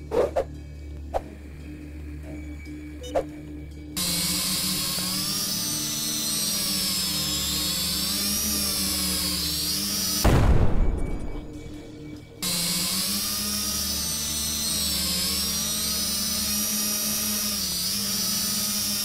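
Drone flying in the video game Kill It With Fire gives a steady whining, buzzing hum with a wavering pitch, preceded by a few soft clicks and briefly broken by a louder whoosh partway through before the hum resumes.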